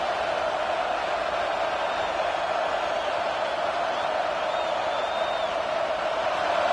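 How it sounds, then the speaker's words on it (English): A stadium crowd at a football game, a dense continuous roar of many voices holding steady and loud throughout, swelling slightly at the close. "the crowd coming to life here, trying to help this defense down in the red zone"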